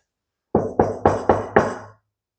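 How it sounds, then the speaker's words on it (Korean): Five firm knocks on a door in a steady, evenly spaced rhythm, each a sharp wooden rap with a short decay, close and clear against silence, with no voices. "문을 두드리는 소리가 들리지 않습니까?"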